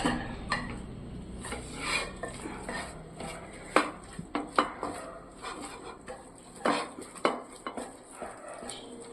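Mashed vegetables for cutlets are mixed in a bowl, giving soft squelching and scraping with intermittent sharp clinks of a utensil against the dish, quiet and irregular, with no talk.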